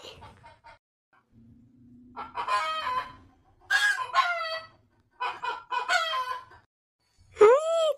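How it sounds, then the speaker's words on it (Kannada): A cartoon rooster and chickens call out with a run of squawking clucks, then a loud crow closes the sequence, the calls coming in bursts between short pauses. "ಕೋಳಿಗಳು ಒದ್ರಕತ್ತಾವ ಯಾಕ?"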